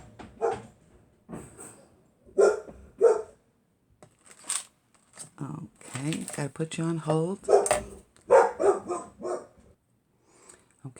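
A household dog barks in a short burst indoors, sharp yips rising over a person talking nearby, with quieter papercraft movement around it.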